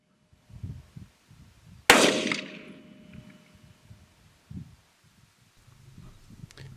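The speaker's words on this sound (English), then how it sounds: "shot that he took with his custom AR-15 in 223" A single sharp rifle shot from a custom AR-15 chambered in .223 cracks out during a jackrabbit hunt in Arizona desert, loud and sudden, then decays into open-air echo amid faint wind and rustling.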